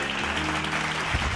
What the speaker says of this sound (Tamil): கைத்தட்டுங்க ஒரு ஆள்